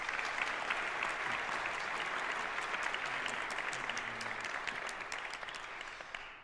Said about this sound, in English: So how about one more applause?